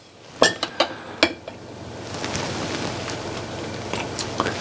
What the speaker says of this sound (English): Stir it in a little bit so get some of those tomatoes to go to the bottom.